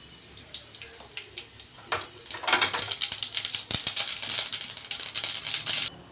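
Mustard seeds splutter in hot coconut oil in a pan with peanuts, giving quick, irregular crackling pops that build from sparse ticks into a dense, lively patter before cutting off.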